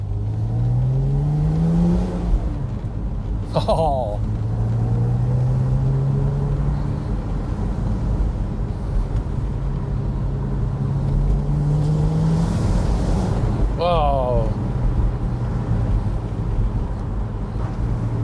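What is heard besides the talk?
Porsche Spyder engine running and revving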